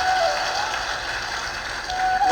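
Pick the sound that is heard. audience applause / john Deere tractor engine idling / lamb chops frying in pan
audience applause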